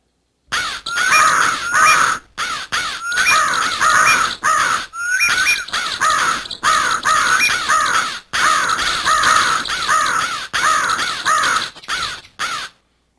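Crows caw repeatedly in harsh, loud bursts, several calls overlapping in quick succession with short pauses between.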